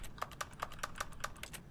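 Keyboard key clicks from The Stanley Parable Ultra Deluxe, about nine crisp taps in an uneven typing rhythm, close and fairly quiet, with no voices.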